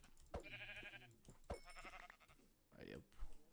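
Sheep bleat a few times in Minecraft, short wavering cries between bursts of other game sounds, fairly close and clear.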